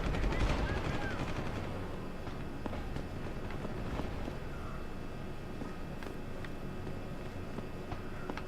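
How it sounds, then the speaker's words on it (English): Continuous distant shooting echoes from below in Deus Ex: Human Revolution, a steady rattle of automatic gunfire with scattered sharper shots, running without pause beneath the game's ambient sound. "There's a lot of shooting down there."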